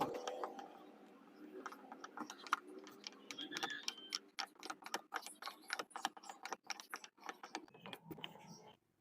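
An old secondhand hand drill is cranked for a test, its worn gears and chuck producing a quick run of dry mechanical ticks and clicks, close and fairly faint, with no talking.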